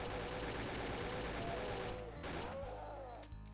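Chaingunner enemies firing in Doom 2, a dense continuous rattle of rapid gunfire under game music and effects, steady and loud throughout.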